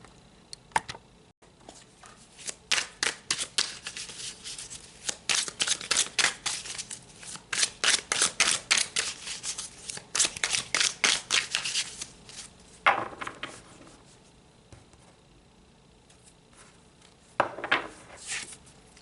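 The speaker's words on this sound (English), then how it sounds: "So let's pull some tarot." Tarot cards are shuffled by hand in a long series of quick riffling bursts and taps, close and fairly crisp, with a few pauses and a final flurry near the end.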